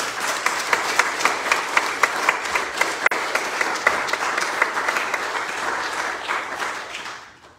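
Audience applause at a Sunday church worship service, with sustained, rhythmic clapping from a congregation that holds steady for several seconds and then fades out.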